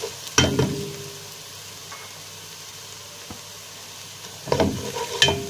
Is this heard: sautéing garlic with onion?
yes